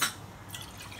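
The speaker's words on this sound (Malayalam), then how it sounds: "1/2 പാല് നമ്മൾ ഒഴിക്കുന്നു ഇതിൻ്റെ കൂടെ ഈ വെള്ളത്തിൻ്റെ കൂടെ" Milk poured from a container into water in a cooking pot while making semiya payasam gives a short, soft liquid splash and trickle, heard alone.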